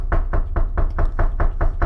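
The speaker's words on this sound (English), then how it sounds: "How the kid is knocking is obnoxious." Rapid, relentless knocking on a door by a kid, about ten heavy, evenly spaced thuds in under two seconds, loud and close with no talking.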